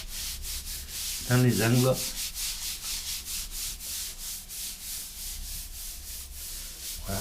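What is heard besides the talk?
rubbing and forming tile grout joints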